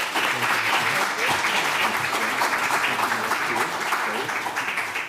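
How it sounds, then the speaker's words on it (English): A room at a board meeting breaks into continuous applause for its board members, a dense wash of clapping that holds steady across the whole stretch with a few voices murmuring beneath. "How about a round of applause for our board members?"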